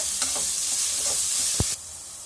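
Onions sizzle and fry in a pan with fennel seeds, giving a steady bright hiss with a few stirring scrapes, and a clear knock near the end before the sizzle drops off.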